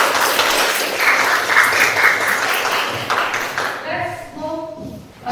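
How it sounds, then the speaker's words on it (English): A classroom group claps together for about three seconds, a dense burst of applause that fades as a voice starts talking over the tail end. "give applause for all of your group"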